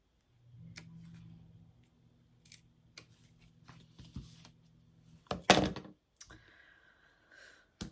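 Scissors cut through bag fabric and interfacing in several separate snips and crisp clicks, close and fairly quiet, with a louder rustle and thump of handled material near the end.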